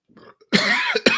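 A soft, faint throat clearing, then a sharp, loud cough with a rough follow-up, close to the microphone.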